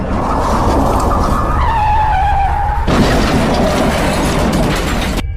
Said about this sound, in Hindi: तभी सॉन अपनी गाड़ी को स्टार्ट करता है और उस भेड़िया को उड़ा देता है।